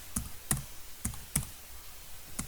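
Someone types code on a computer keyboard in short, uneven bursts of close, crisp key clicks, about six taps with small gaps between them.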